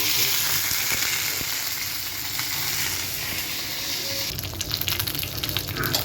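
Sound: mustard seeds and curry leaves frying in oil in a pan

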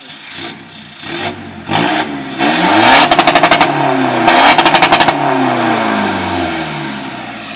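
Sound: remapped 1.9 engine revving against the rev limiter cut

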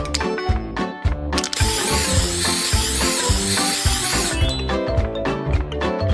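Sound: spray paint can spraying jar lid

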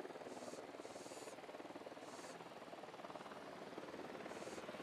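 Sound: helicopter approaching in video game Ghost Recon Wildlands

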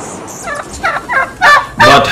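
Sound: turkeys gobbling

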